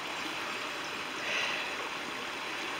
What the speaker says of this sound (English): And here we have the little brook.